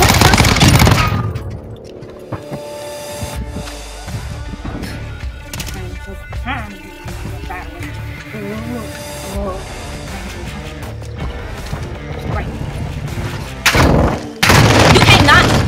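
Call of Duty Modern Warfare 2 gunfire in dense, rapid bursts of sharp automatic shots, close and loud, with scattered impacts and chaotic game effects mixed under talk in the background.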